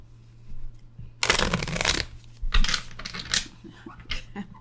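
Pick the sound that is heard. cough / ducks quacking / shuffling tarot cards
shuffling tarot cards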